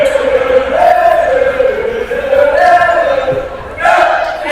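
A high school student section at an Omaha Concordia vs Columbus Scotus volleyball game chants and sings loudly in a rhythmic, droning unison that rises and falls, filling the gym.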